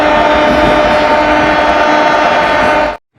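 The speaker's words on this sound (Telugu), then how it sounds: "ఓకే, మనం హారన్ అయితే కొట్టిద్దాం." A locomotive horn sounds in Indian Train Simulator, one long, loud, steady blast that holds for about three seconds and then cuts off sharply to silence.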